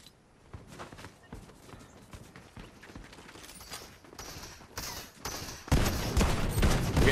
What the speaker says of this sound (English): Frenzy auto shotgun.